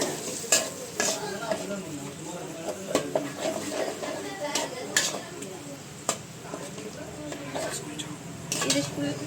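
A spoon stirs ground tomato into a cooking mixture for momo filling, with repeated scraping and clinking against the pan in an uneven rhythm over a soft sizzle, close and moderately loud.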